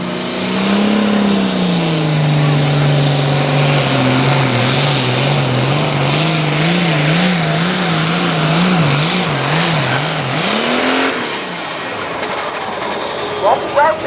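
A farm tractor at a tractor pull holds a loud, sustained engine drone whose pitch warbles and climbs as it revs hard, with a public-address voice talking over it.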